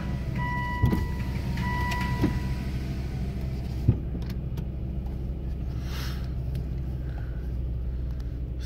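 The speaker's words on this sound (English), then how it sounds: "Roll my window up because it's cold out." Power window on a running car rolling up in a garage on a cold day, two brief motor whirs over a steady low engine idle, with a small clunk as the window seats.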